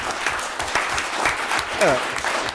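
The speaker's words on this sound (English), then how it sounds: "So I can't get a round of applause for winning money for the school district." An audience at an education event breaks into brief applause, a burst of scattered claps that swells and fades over a couple of seconds, with a voice speaking over it.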